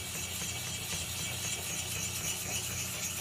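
Coarse grit stone rubbed along an axe blade, a steady close gritty scraping that continues without break.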